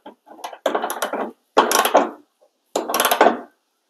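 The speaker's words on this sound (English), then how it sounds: "we're going to tighten up our other bottom bolt that we reused here." A 15 mm wrench tightens a reused bottom bolt on a Bronco rear mudflap, making three close bursts of clicking ratchet-like turns separated by short silences.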